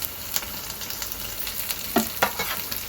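Garlic, ginger and coriander fry in hot oil for a Malvani chicken sukka, a steady loud sizzle broken by a few sharp scrapes of the stirring spoon.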